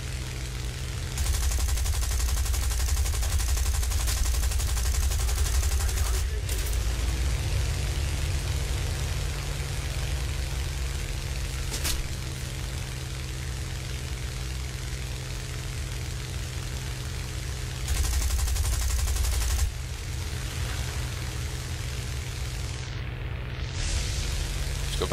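Aircraft strafing gunfire in the War Thunder video game, with a Blenheim nearby: sustained rattling machine-gun bursts over a steady engine drone, loud and dense in two long stretches with a quieter rumbling gap between.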